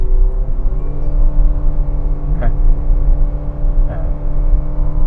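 A 2023 Mitsubishi Xpander Cross engine pulling uphill on a winding mountain road under light throttle, heard from the cabin as a loud, steady droning hum with a slight rise in pitch, a voice talking over it.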